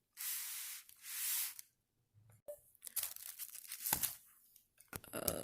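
Glue spraying onto a graduation money cake in short hissing bursts, two longer sprays followed by scattered crinkling and tearing of paper, close and fairly quiet.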